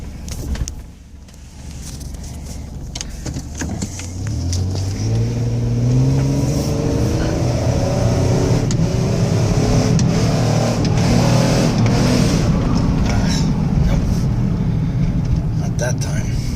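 A 2005 Ford Escape engine revs hard with the pedal floored, its pitch climbing and dropping through gear shifts in a steady, loud drone, with birds cooing and a voice talking over it.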